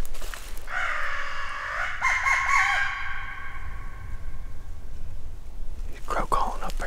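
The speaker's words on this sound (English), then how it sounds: "Crow calling up there." Crow cawing in timber on Mississippi public land during a spring turkey hunt, a few harsh calls near the start over a faint outdoor hush, with more brief sounds near the end.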